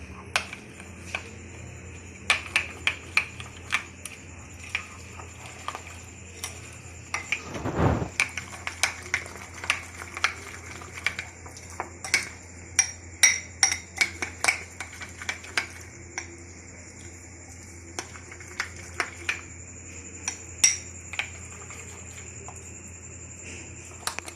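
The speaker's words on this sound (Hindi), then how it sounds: "अब इन सब चीज़ों को मैं अच्छे से मिक्स कर दूँ।" Sandwich filling ingredients are mixed in a bowl with a utensil, producing a long series of light clinks and scrapes at an irregular rhythm over a quiet background, with one louder knock partway through.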